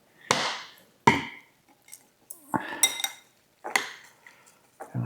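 Metal utensils clink and scrape against a bowl while noodles dressed with sriracha are mixed, in several sharp separate hits with short quiet gaps between them, close and clear.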